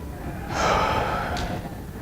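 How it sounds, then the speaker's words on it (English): A single slow breath, drawn in and released by a person sitting upright during a meditation exercise, soft and close against a quiet background. "So just sit up and breathe."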